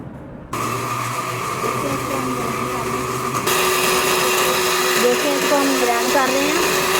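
Electric grinder grinds whole spices such as cumin, nigella and dried coriander into a coarse pickle masala, with a loud, steady motor whine that rises in pitch partway through, and a voice speaking faintly beneath.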